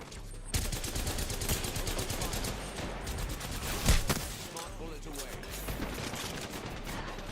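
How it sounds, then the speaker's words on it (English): Rapid gunfire from a shooting video game, bursts of dense automatic shots running nearly throughout at steady loudness, with one sharper louder report near the middle and speech mixed faintly underneath. "How is he still able to shoot me in my back?"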